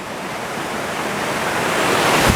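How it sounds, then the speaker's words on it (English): Waves surge and splash in a continuous loud wash of water, close by and building slightly toward the end. "the water is definitely splashing over this thing"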